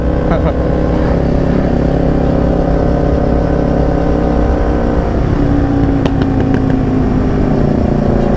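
A Kawasaki motorcycle fitted with an aftermarket replacement air filter runs loud and close, with a steady engine drone, rising revs and a few sharp exhaust pops near the end.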